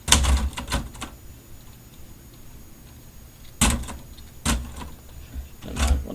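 Heavy, sparse typewriter key strikes with loud mechanical thunks, a few in quick succession, then a pause before more clattering hits.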